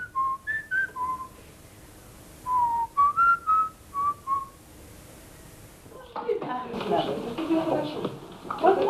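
A man whistles a melody in short clear phrases with pauses between, followed by muffled talk and room noise.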